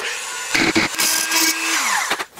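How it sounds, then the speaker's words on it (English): A Dremel rotary tool whirs steadily while cleaning paint off a painted-over ground contact on a Vespa under rebuild, a sustained high whine with brief interruptions as it touches the metal, then the pitch drops as it spins down. "I'm going to use my Dremel to do that"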